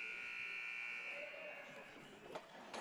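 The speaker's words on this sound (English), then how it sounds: "The buzzer has sounded" A game buzzer at a lacrosse match sounds in a steady electric drone that slowly fades, with arena crowd noise and a few sharp knocks underneath.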